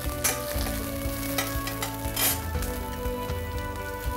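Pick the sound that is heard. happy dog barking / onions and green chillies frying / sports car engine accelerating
onions and green chillies frying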